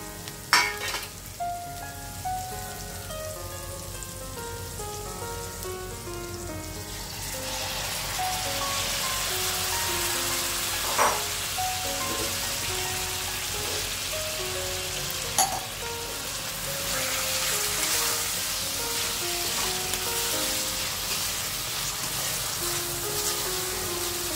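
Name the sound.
prawns frying in masala in a pan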